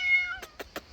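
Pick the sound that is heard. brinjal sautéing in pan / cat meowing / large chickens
cat meowing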